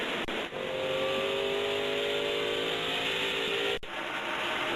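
A Pontiac and a Ford race car in the NASCAR Legends video game roar past in a steady, loud engine drone. Brief dips in the sound mark cars passing close by.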